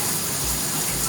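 A bathtub shower head in a rehabbed house runs steadily, a continuous hiss of water spraying into the tub, loud and close.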